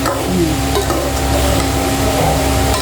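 Raw jackfruit curry with prawns, seasoned with roasted Malvani masala and salt, is stirred in a pan in Konkani style. A steady, close scraping and sizzling runs throughout without pause.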